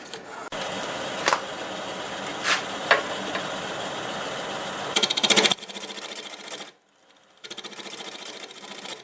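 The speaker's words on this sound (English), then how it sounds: "So I will go ahead and cut a tenon on this." Wood lathe turning a tenon on a laurel root ball, a steady loud machine drone with a bright high whine and scattered scraping bursts of the tool on wood, dropping briefly near the end before spinning back up.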